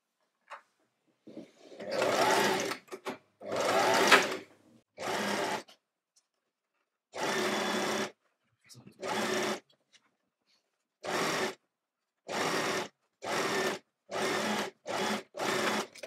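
A sewing machine stitches slowly around a dress sleeve in short separate bursts, each a steady whirring run of a few seconds with quiet pauses between, fairly close and alone without talk.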